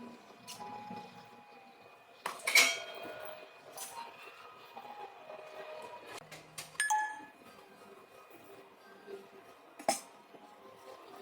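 Wet dishes are wiped and put away in a home kitchen: soft rubbing between three sharp, ringing metallic clinks as pieces are set down, fairly quiet and close.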